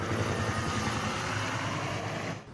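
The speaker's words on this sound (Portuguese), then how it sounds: "Do alto, o helicóptero deu apoio à ação." A police helicopter supporting an armed raid near Rio de Janeiro flies overhead, its rotor and engine a loud, steady churning roar that fills the clip before easing slightly at the end.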